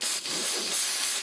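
Spray varnish hisses from an aerosol can onto a pigment powder artwork in one continuous close burst, nearly unbroken with a slight dip partway.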